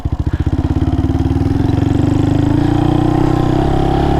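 A Honda Monkey 125 motorcycle climbing a bumpy track in an abandoned rock quarry, its single engine loud and close, chugging in a fast pulsing rhythm that steadies as it pulls along.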